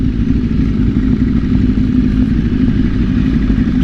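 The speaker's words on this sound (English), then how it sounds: "I bet you that bike runs a whole lot better now that it has the full exhaust on it" Ducati 848 Evo motorcycle fitted with a full SC Project exhaust, idling with a steady, loud low rumble that holds constant throughout, close by with no talk.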